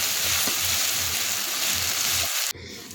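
Ginger-garlic paste sizzles in hot oil with frying onions for a Loitta dry fish bhuna, a steady bright crackle that holds for about two and a half seconds, then briefly dips and shifts as the pan is stirred.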